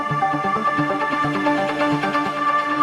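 Korg Wavestate wave-sequencing synthesizer playing a layered patch of bright, pitched tones that step along in a quick rhythmic pattern over a steady sustained bed, close and fairly loud throughout.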